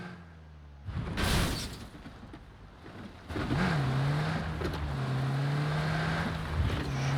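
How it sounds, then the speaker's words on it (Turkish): A car engine in the video game PUBG rises from a distance, revving up and then holding a steady drone, getting louder partway through amid other game sounds. "Araba mı duydun lan?"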